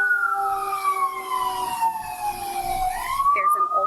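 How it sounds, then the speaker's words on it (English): An emergency vehicle siren wails outside near an assisted living home, a steady tone slowly falling in pitch and then jumping back up, heard at a moderate distance. "Sorry about the sirens."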